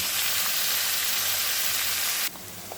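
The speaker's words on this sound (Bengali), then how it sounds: "এবার আদা, পেঁয়াজ এবং লঙ্কা হালকা করে ভাজা হবে" Loud, continuous sizzling of chopped onion, ginger and chili frying in hot oil fills the clip, dropping slightly in intensity near the end.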